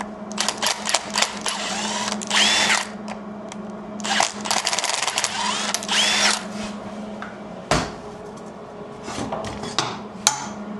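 Drill tapping threads in the body of a 1965 VW Safari, with short bursts of whirring motor noise broken by pauses and a few clanks, close by in a workshop.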